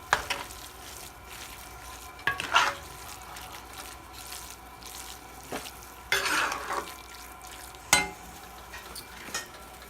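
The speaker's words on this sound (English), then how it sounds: "Get this stirred in good first." Ground meat and ham stirred in a skillet: a quiet background sizzle with several separate bursts of scraping and shuffling as a spoon pushes the mixture around the pan.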